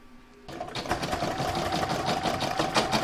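An embroidery machine stitches the word merry on a Christmas bauble design. After a brief quiet start, rapid rhythmic needle clatter and motor hum run steadily and close up to the end.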